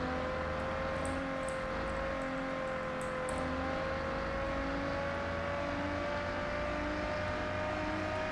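A Lamborghini Aventador engine holds a loud, steady drone with a slowly rising pitch as the car accelerates, heard from inside the cabin with faint ticking in the background.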